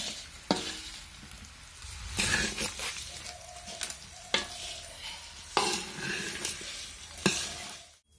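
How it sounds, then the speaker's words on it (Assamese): Spices sizzle in a hot pan while a spoon stirs them slowly, giving repeated scraping sweeps over a continuous frying hiss, close and moderately quiet, with no talking. "এনেদৰে লাহে লাহেকৈ সাৱধানে লৰাই থাকিব"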